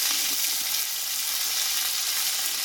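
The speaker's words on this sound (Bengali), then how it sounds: "মশলাটা আমি একসঙ্গে ভালোভাবে কষিয়ে নেবো মশলাটা দিয়ে একটু নাড়াচাড়া করে নিয়েছি" Spice paste of ginger, green chilli, cumin and tomato frying in a pan for a potato and pointed gourd curry, giving a dense, continuous close sizzle with faint stirring underneath.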